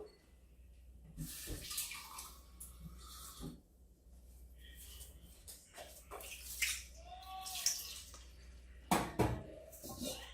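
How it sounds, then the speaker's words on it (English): Water splashes and trickles into a bowl of finger millet in short bursts, with light clinks of dishware nearby and a faint background hum. "So I'll add a little more water onto this bowl."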